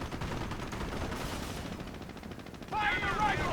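Gunfire fills a Company of Heroes battle with bursts of rifle and machine-gun shots. Voices of in-game soldiers shout over the fighting as the noise rises near the end.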